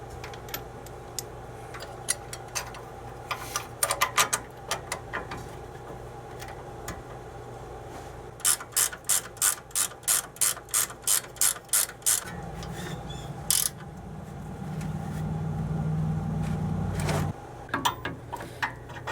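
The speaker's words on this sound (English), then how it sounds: "Now go ahead and tighten your caliper and bolts up all the way" A ratchet wrench clicks through a rapid, close run of evenly spaced strokes while tightening the brake caliper bolts on a Toyota pickup 4x4, with scattered mechanical clatter and a brief grinding stretch before the ratcheting resumes.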